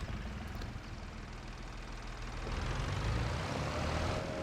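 Tractor engine idling in Farming Simulator 25, a steady low drone that grows slightly louder toward the end, with no talk.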